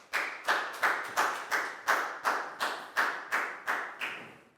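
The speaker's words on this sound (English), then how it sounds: "a big round of applause for Nadia, please, guys." A small class applauds a student during a primary English lesson, with about a dozen crisp, evenly spaced claps in a steady rhythm, close and fairly loud.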